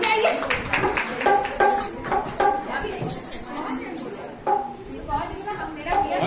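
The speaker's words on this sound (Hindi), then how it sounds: "इनके लिए ताली बजा दें" Audience clapping at a Navratri quiz contest, brisk scattered claps in bursts mixed with talking voices throughout.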